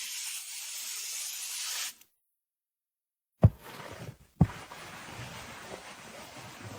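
Stain cleaner sprayed onto a surface gives a sustained hiss lasting about two seconds, then silence, followed by two sharp knocks and some low handling noise.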